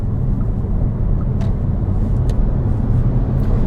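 A Volkswagen ID.3 electric car cruising on a motorway gives a steady, loud, broad rumble of road and wind noise with no let-up and no speech.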